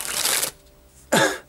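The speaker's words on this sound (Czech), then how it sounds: "Moje úplně první springa tady s tímhle balíčkem" A deck of cardistry playing cards is sprung from hand to hand in two quick riffling bursts, the first longer and the second sharper, close and clear with a short pause between them.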